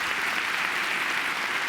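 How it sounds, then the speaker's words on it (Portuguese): Audience applause from a crowd at a religious TV program, a steady dense wash of clapping throughout at an even, fairly loud level. "E nós aplaudimos a Jesus"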